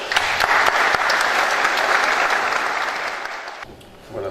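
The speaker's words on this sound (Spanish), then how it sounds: "Lo recibimos con fuertes palmas." Strong applause from a conference audience welcoming a speaker at a judicial management lecture, dense and loud for about four seconds before tapering off abruptly.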